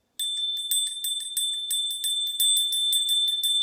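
A bell from India rung in rapid repeated strikes, each a bright metallic ting with a steady high ringing tone sustained underneath, loud and close with nothing else heard.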